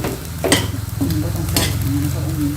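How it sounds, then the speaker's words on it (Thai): Chilies sizzle and hiss in hot oil in a new pan while a utensil scrapes and stirs in repeated strokes, steady and close, for a catfish jungle curry. "ผัดพริกมาผัดให้มันหอม"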